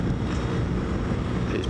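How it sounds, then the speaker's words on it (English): Wind buffets the microphone while riding a BMW R1250GS motorcycle along Peak District roads, a dense, low rumbling roar with steady gusty texture throughout, no voices. "It's pretty windy"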